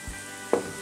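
Onion cooking in a frying pan until almost transparent gives a soft, steady sizzle, with a short louder burst of frying partway through.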